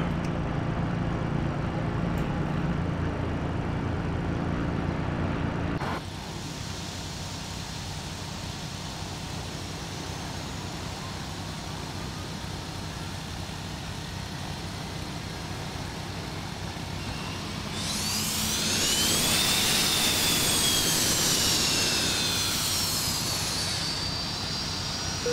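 Engine 1 of a McDonnell Douglas MD-83 jetliner starting in the Prepar3D flight simulator, a steady mechanical roar that shifts tone partway through, then a rising whine builds and swells loudly toward the end, no talk.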